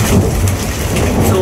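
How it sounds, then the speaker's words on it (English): Heavy hail pours down in a dense, steady roar with low thunder rumbling underneath, loud and close throughout. "It's hailing! Wow! The lightning is kicking off as well."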